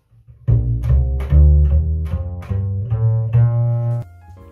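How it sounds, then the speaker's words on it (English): Plucked double bass notes ring out one after another, deep and resonant, about seven close, full-bodied pizzicato tones in a loose rhythm with no talking. "A double bass sounds something like this."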